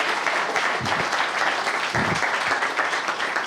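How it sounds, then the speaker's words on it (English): Audience applause after a lightning talk at a Python conference, steady and fairly loud clapping from a crowd that holds for the whole stretch, with no voices over it. "Okay, big applause."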